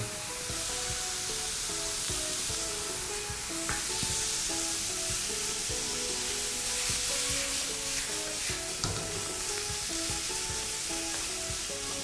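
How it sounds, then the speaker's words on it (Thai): Small pieces of beef tenderloin stir-frying in a hot pan with sweet peppers until slightly charred, making a loud, dense, continuous sizzle with frequent spatula scrapes, close up and without talk. "เนี่ยเราจะผัดให้เนื้อเกรียมนิดนึง นะ ให้มันมีเป็นแบบ ติดขอบแบบเกรียมๆนิดนึงนะฮะ"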